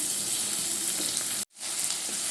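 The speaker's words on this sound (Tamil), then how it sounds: "நல்லா தக்காளியை வதக்கிக்கலாம்." Tomatoes sautéing in a pan with onions, a loud, steady frying sizzle that cuts out abruptly for a moment before returning.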